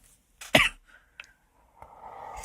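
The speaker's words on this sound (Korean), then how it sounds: "기침." One sharp, close cough from a speaker with the flu, followed by a softer throat-clearing sound and a quiet rustle in an otherwise still room.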